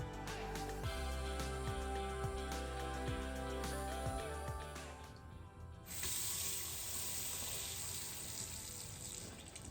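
Water runs steadily from a household water heater being drained to release pressure, a continuous close splashing flow that gets louder and brighter partway through.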